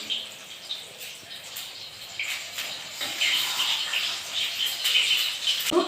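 Egg frying in hot oil in a home kitchen, a steady soft sizzle with small crackles and pops that grows slightly louder over time, no talking.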